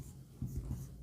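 Chalk or marker scratching across a board during a class 9 circle theorem geometry proof: a brief, faint, close writing stroke with no talk.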